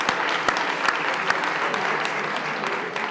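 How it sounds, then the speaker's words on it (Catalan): An audience at a Catalan political café quiz event claps for a correct answer, a steady close round with a few sharp individual claps standing out. "Doncs un aplaudiment"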